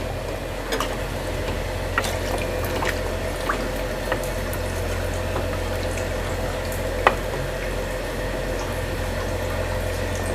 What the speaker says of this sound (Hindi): मैं इसमें 1/2 लीटर पानी डाल रही हूँ।